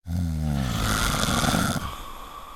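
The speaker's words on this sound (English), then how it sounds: "so they had a loud snore" One long, loud snore rumbles close by, a deep rasping breath that fades into a softer wheeze at the end.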